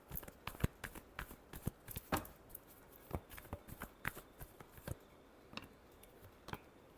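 Tarot cards shuffled softly up close, a quick run of light clicks and flicks that thins out toward the end.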